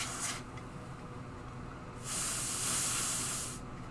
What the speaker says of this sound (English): And then just hit it with some freeze spray.